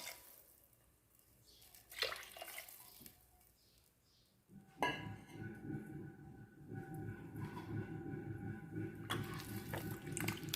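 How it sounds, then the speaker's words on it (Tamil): Tamarind water is poured into a fish curry simmering in a clay pot, a faint liquid splash and trickle that grows into a steady, soft pouring wash after a few seconds of quiet kitchen background. "நம்ம இதில் கரைச்சி வச்ச புளி தண்ணியையும் ஆட் பண்ணிக்கலாம்"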